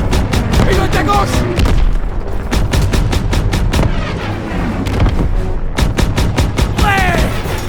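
Gunfire in the World War II shooter Call of Duty WWII: rapid bursts of loud shots and booming explosions in quick succession, with excited voices shouting over the battle.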